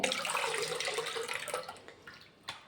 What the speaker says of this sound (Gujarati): એક મોટા વાસણમાં પાણી લીધું છે, તો હવે આપણે એમને ધોઈ નાખશું